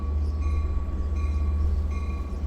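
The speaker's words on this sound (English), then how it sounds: "locomotive DE 30AC 415 is powering 2734 today." Long Island Rail Road train 2734 hauled by DE30AC diesel locomotive at Speonk, a loud, steady low engine drone with a sustained tonal whine and rhythmic mechanical pulsing, close by.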